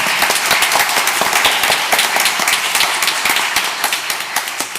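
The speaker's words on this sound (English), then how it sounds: "That deserves a round of applause" Applause at a school district board meeting, a close, lively burst of many people clapping with sharp individual claps standing out, continuing steadily for the whole stretch with no talking.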